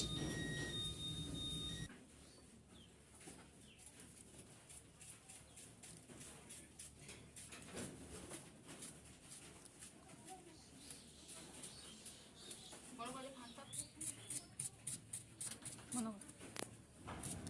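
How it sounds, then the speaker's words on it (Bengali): Faint pigeon cooing and fluttering with light tapping and scratching on a tin roof, while people talk quietly in the background. "দেখুন বন্ধুরা আমাদের বাড়ির টিনের মধ্যে কতগুলো পায়রা চলে এসছে"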